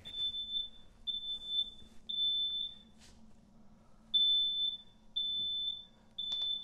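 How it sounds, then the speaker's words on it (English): A smoke alarm sounds a series of sharp, high, piercing beeps in short repeated bursts with brief gaps between groups, loud and clear over a faint low background hum. "So if you have a sound which is a smoke alarm, for example,"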